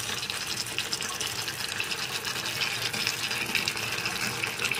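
Vinegar for chilli chicken is poured into a pan, giving a steady close hissing, gushing rush of liquid that runs evenly for several seconds without any talking.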